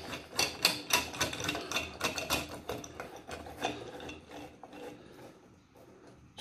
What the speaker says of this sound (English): And the plunger just screws back in.